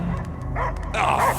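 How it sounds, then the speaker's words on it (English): A dog barks in Marvel's Guardians of the Galaxy video game, on the Knowhere level: a few short yipping barks over a steady background game score. "I hear only barking."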